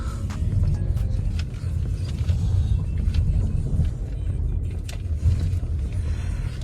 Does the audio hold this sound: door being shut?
no